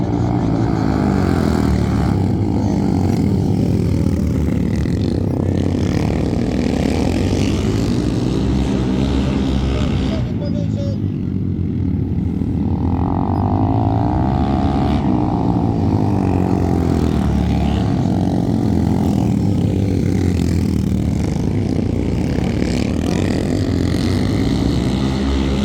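Royal Enfield Guerrilla 450 motorcycles racing on a flat track, a steady loud engine drone that keeps rising and falling as the bikes pass, continuous for the whole stretch with a commentator's voice faintly mixed in.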